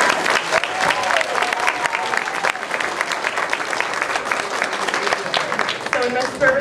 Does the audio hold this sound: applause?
yes